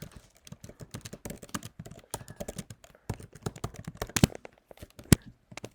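Rapid, irregular clatter of keys on a computer keyboard while Python code is typed, close and fairly quiet, with a couple of sharper louder key strikes near the end.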